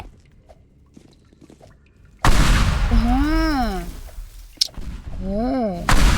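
Gunfire in a video game: after a quiet start, a loud burst of shots erupts and continues in dense volleys while a player shouts excitedly over it.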